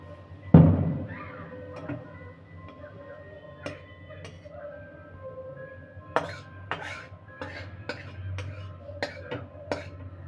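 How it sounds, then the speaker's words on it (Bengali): Light clinks and scraping taps of a utensil against a pan as vegetables are mixed into cooked rice, irregular and fairly close, with one heavier thud near the start and quiet talk in the background. "সবজিগুলো ভাতের মধ্যে দিয়ে দেবো।"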